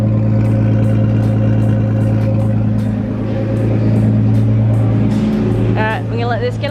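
Nissan R32 Skyline engine, prepped for drifting, idles steadily as it warms up, a loud, close, continuous low rumble with a steady throb that holds through to the end.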